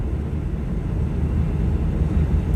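A truck cab at about 38 miles an hour while driving through snow, filled with a steady, dense low roar that resembles an airplane cabin, loud and unbroken with no talk.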